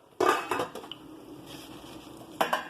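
Collard greens get a quick stir in a pot, a few clinking scrapes of utensil against metal that come close and clear at the start, then one more pair of knocks after a short pause.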